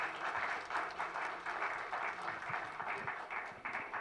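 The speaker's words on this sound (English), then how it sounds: "let us give them a big round of applause" An audience at a climate leaders' summit and awards event applauds the panelists, steady close clapping from many hands that lasts the full four seconds with no talking.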